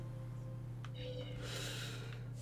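Cat spirits meow in the video game Tales of Berseria, a couple of short mews over a steady low in-game hum.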